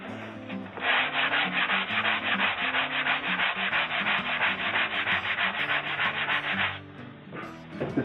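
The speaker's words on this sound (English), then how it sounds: "It's going to need sanding down." Steady back-and-forth sanding of a wooden guitar soundboard, a rapid rhythmic rasping that runs for several seconds, pauses briefly, then resumes more softly.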